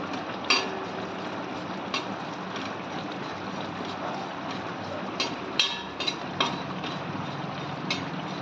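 Cumin seeds fry in a little hot oil for a potato and yogurt curry, sizzling in a steady hiss, with occasional sharp clicks and scrapes of a utensil against the pan.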